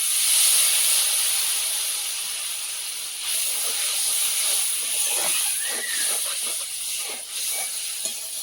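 Water poured into hot spiced oil in a pan sends up a loud, sustained hiss of steam and sizzle close by. The hiss eases slightly as it goes on, with crackling bursts underneath and no voices.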